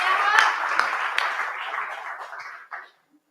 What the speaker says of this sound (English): give Tyra a big round of applause